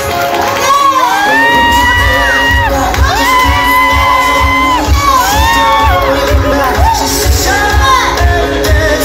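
A wedding celebration crowd cheers, shouts and whoops loudly and continuously, with high voices swooping in repeated rising and falling calls over a dense background roar.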